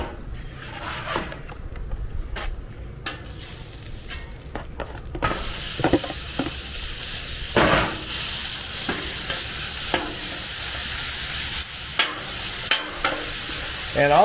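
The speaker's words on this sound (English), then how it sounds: "And we're going to start cooking our beef." Seasoned ground beef frying in oil on a Blackstone flat-top griddle, a steady close sizzle with repeated scraping and stirring clatters from a spatula, no talking.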